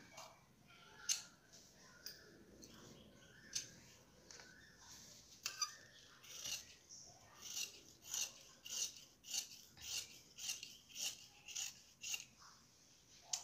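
Scissors cut through blouse fabric in a steady series of short, crisp snips, spaced about a second apart and growing more regular toward the end. The snips are close and fairly clear, with no talking.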